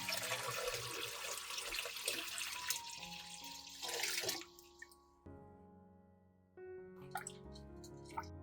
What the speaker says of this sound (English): Add water and rinse the ginger.